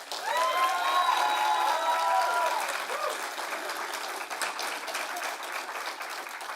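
Audience at a libertarianism-versus-conservatism debate breaks into loud applause with some cheering and whistles, the clapping swelling quickly, then tapering to a lighter, uneven patter.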